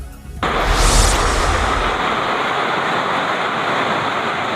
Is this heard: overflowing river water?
yes